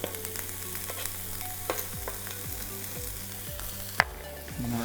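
Peppers and ham sizzle steadily in a hot pan, with a crackling hiss throughout, a few scrapes and clinks of a utensil stirring, and no talking.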